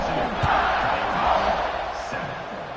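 Stadium crowd noise in the College Football 26 video game, a steady broadband roar of cheering fans at a kickoff in an Alabama home game, with a voice briefly speaking over it.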